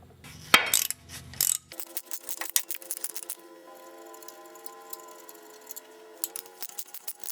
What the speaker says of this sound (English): I'm going to remove these 4 bolts with a 7/16 socket.